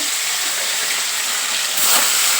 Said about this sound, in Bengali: এখন আমি মাছগুলোকে এক এক করে কিন্তু মাছগুলোকে ভেজে নেব আমার তেলটা গরম হয়েই গেছে